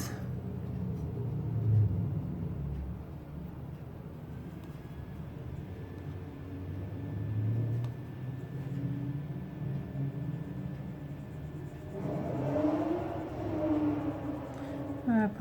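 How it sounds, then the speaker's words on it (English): Cars pass outside a building as a low, muffled rumble that swells and recedes several times, heard faintly through walls under a person talking indoors. "noisy cars outside our building."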